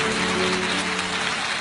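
Audience applause fills a church event hall as a mother on stage is honored, a dense steady clapping wash throughout.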